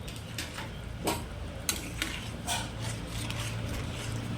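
A spoon scraping and stirring potato and poppy seed curry in a pan, with a few sharper knocks against the metal over a low sizzle, close and steady.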